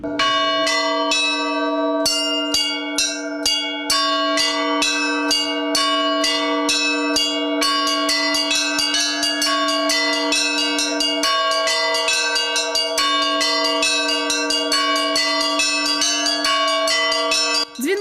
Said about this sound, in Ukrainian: Круті сходи угору і бачимо сім дзвонів різного розміру.